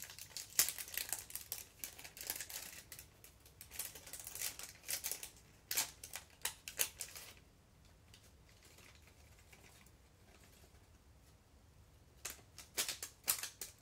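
Close, quiet crinkling and rustling of a small plastic package of stickers being handled, in irregular bursts of crisp crackles with a calmer stretch in the middle, no talking.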